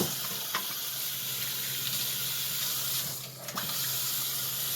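Tap water runs into a sink to rinse Jacob sheep wool, a steady close hiss of flowing water that fills the whole stretch, with a brief dip and a couple of faint knocks near the end.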